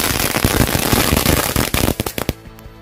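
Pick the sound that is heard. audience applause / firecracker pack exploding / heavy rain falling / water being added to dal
firecracker pack exploding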